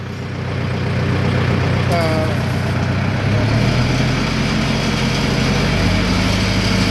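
A rice threshing machine engine runs loudly and steadily, its revs climbing partway through into a stronger, sustained roar.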